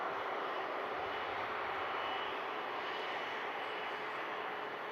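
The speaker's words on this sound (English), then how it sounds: "Virgin Airbus A330 on the taxi out with a wide-body departure." A Virgin Atlantic Airbus A330 wide-body jet taxiing out at Manchester Airport, a steady, broad engine roar holding even and fairly distant throughout, with no talk over it.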